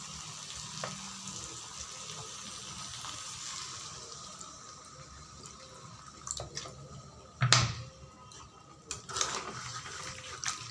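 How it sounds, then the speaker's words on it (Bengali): Spicy chicken fries in a pan with a soft, continuous sizzle until a little broth is poured in, setting off a sudden louder hiss and splutter followed by a few drips and clinks. "আমি এখন একটু ঝোল দিয়ে দিচ্ছি"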